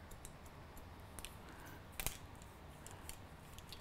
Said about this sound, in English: Take that one section and just cut into it a little bit more.